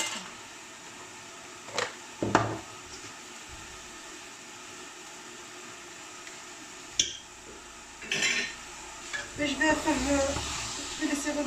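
Vegetables and spices for Moroccan vegetable couscous fry in a pan, a soft steady sizzle and hiss with occasional clanks of a utensil against the pan and louder stirring toward the end.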